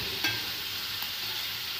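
Salted squid and petai being stir-fried in a pan with sugar, pepper and turmeric, a steady soft hiss of sizzling with a light scrape of stirring, continuous and close.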